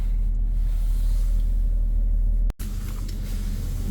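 An Audi A7 C7 3.0 BiTDI Competition diesel pulls away on the road, giving a steady low engine drone and road rumble heard from inside the cabin, with one brief dropout partway through.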